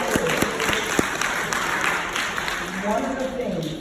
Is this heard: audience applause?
yes